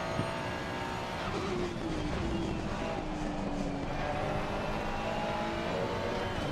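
Racing-game car engine droning steadily while driving on track, with a rising and falling engine pitch running continuously throughout, no talk.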